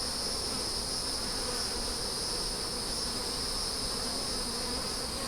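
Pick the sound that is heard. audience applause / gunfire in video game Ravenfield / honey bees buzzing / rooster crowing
honey bees buzzing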